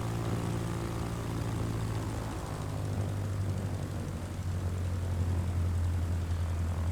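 A propeller airplane in Microsoft Flight Simulator 2024 accelerates with a steady, droning engine hum. It sits at a constant level, then dips in pitch partway through and holds a lower tone, with no one talking.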